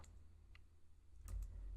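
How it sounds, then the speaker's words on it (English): Faint computer keyboard typing, a few soft scattered key clicks over a low steady background hum. "I will have here 3G and I will start typing."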